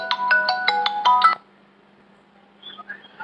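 A phone ringtone plays a short rising and falling electronic melody for just over a second, loud and close, then stops before a faint voice answers the incoming call.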